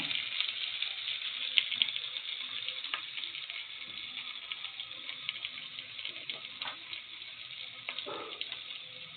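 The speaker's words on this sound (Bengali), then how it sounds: "কড়াইয়ে দেওয়া হয়ে গেল তুলে রাখা আলুগুলা ভাজা করার জন্য।" Small potatoes frying in oil in a black iron wok, a steady close sizzle with occasional crackles and pops and a few stirring scrapes, no talk.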